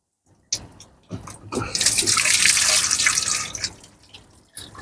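Water gushing and splashing as fittings come off a pressurised pond filter at a garden pond, starting with a few drips and clunks before a loud sustained spill that tapers off, no voices over it.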